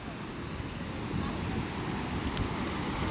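Sea waves wash onto the beach at Bucana, Nasugbu during Typhoon Kristine, a steady broadband roar of surf mixed with gusty wind buffeting the microphone, loud and continuous with no talk.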